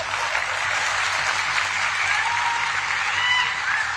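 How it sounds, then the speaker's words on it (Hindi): An auditorium audience at a Shivaji Maharaj birth anniversary celebration claps steadily, a dense wash of applause with faint voices mixed in. "इनके लिए ताली बजाइए।"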